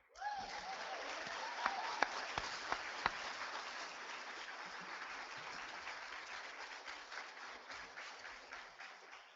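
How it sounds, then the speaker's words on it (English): Audience applause at a parish president candidate forum starts abruptly and holds steady, a dense wash of clapping with a few sharper claps standing out early, slowly tapering toward the end. "since you already gave them a round of applause"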